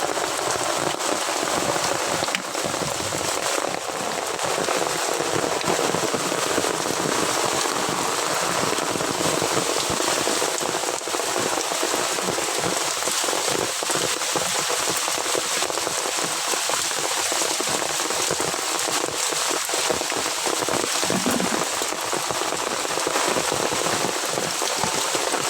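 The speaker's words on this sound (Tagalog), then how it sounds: "Sana ulan lang, walang kasamang kidlat." Steady, heavy rain patters densely on a surface, a continuous hiss of droplets with no pauses, close and fairly loud.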